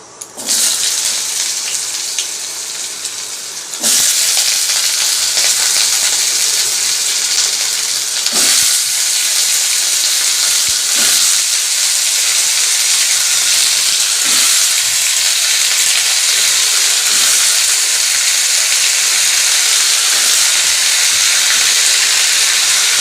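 Potato pieces frying in a pan for a home-cooked vegetarian Bengali meal, a steady loud sizzle and hiss that flares up after a few seconds and keeps going without a break, with no talking.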